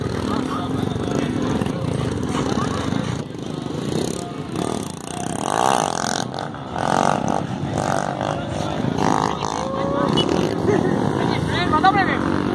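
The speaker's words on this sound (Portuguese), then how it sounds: "O carinha botou pra arrastar, a moto foi pro lado." Motorcycle engines rev and roar through a dragging, sliding stunt at a street bike event, loud and continuous with a crowd babbling and people shouting throughout.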